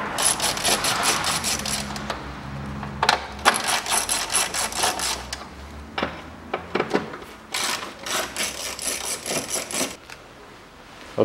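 A BMW 530i E60 2006 Torx T30 bolts being unscrewed from an engine bracket produces close metallic clicks, ratcheting and small tool clatter in irregular bursts with brief pauses.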